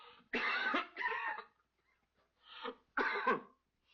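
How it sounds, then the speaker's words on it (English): A sick woman coughs in a few harsh, hacking bursts, two close together and then two more after a pause, close and fairly loud, with no talking. "your cough's getting worse"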